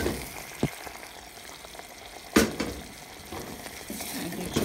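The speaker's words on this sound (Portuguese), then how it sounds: "E aí agora você pode jogar o gengibre dentro." Ginger drops into caramelized sugar in a pan on low heat and sizzles steadily, with a few sharp clinks and stirring knocks against the pan over the close, constant frying hiss.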